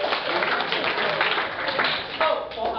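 An audience gives a big round of applause, a dense burst of many hands clapping close and loud, steady throughout with no gap.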